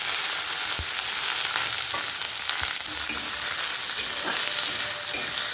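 Black cumin seeds sizzling in hot oil in a wok, a steady bright hiss with scattered pops and occasional clinks of stirring, continuous and close throughout.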